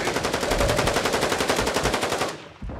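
Rapid automatic gunfire in a shooter video game, a loud, dense stream of shots in quick, even succession that stops abruptly near the end.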